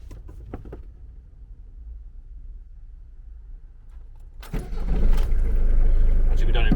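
A budget motorhome engine cranks over after a quiet stretch with faint background noise, then catches and settles into a loud, steady idle close by.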